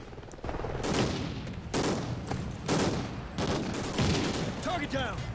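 Dense gunfire in the video game Call of Duty Ghosts keeps up a steady run of loud shots and impacts, mixed with game effects and a brief voice.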